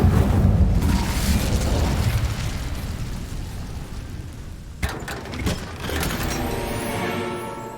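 Incendio fire spell cast in the game Hogwarts Legacy, a loud roaring whoosh of flame with rumbling burst for about five seconds, then a sharp crackle and lighter clattering effects as it dies down.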